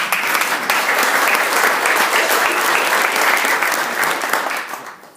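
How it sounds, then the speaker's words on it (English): Sustained audience applause at a retirement gathering, steady dense clapping from a crowd filling the room, fading out at the end. "And you can clap for them."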